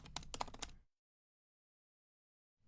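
Quick burst of keys tapped on a computer keyboard, about half a dozen close clicks in under a second, then silence.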